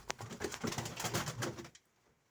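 A pigeon of the Czech breed coos softly in a short run of low, throaty calls close by, then falls quiet.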